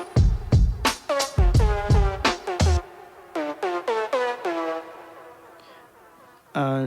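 A lo-fi synth lead plays a run of short, bending melodic notes over a drum loop, with punchy low hits driving the first few seconds before the lead continues more sparsely, loud and without speech.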